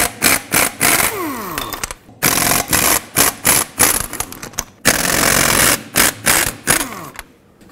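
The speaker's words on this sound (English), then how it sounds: "I'm gonna remove the wheel first with a 19 millimeter socket." On a 1998-2011 Ford Ranger, the wheel is removed with a 19 millimeter socket, likely on an impact gun: loud, close mechanical rattling comes in repeated short bursts with brief pauses, no voices.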